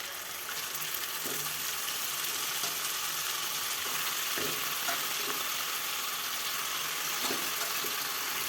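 Chicken pieces dropped into masala frying in oil, with a constant even sizzle and occasional faint clicks of stirring spread across it, no voices.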